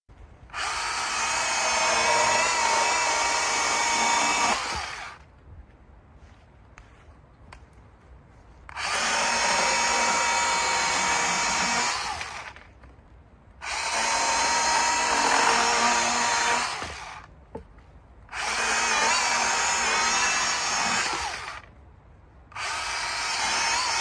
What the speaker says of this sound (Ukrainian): процес пиляння ланцюговою пилою, тобто що вона майже під своєю вагою йшла, пиляла, то в принципі пила не зупиняється